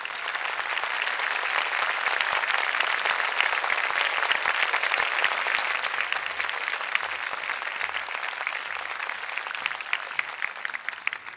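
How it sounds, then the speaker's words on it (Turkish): Sustained studio audience applause at a Turkish folk song TV competition final, dense and steady clapping from a large crowd for about eleven seconds, thinning slightly toward the end. "Ali Açıkyol'u alkışlıyoruz ve teşekkür ediyoruz."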